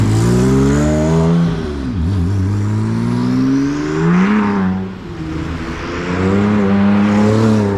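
Porsche 997 Turbo fitted with a Hutchins exhaust, loud and close, with the engine note rising and falling through several rev swings and gear changes, a deep droning tone with brief dips and no talk.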